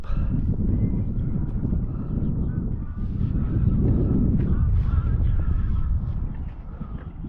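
A flock of American coots calls continuously nearby on Lake Elsinore, California, a dense chatter of low clucks and grunting notes over steady outdoor wind.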